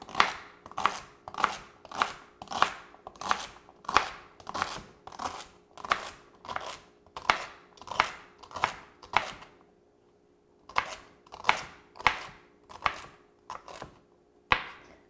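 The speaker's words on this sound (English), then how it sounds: "I'm just going to use our knife and cut it up into little pieces" A knife chops celery into small pieces on a cutting board in a kitchen, a run of crisp, evenly spaced chops with one short pause partway, close and clear with no talking.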